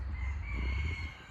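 Backyard hens crowd close around, letting out a short burst of clucking and crowing-like fowl calls over a low rumble, fairly faint and without speech.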